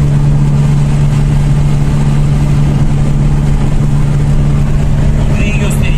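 A 1.6-litre Mazda 626 GD driving fast on a flat, curving road at around 145–150 km/h, with a loud, steady engine drone and road and wind rush filling the cabin throughout.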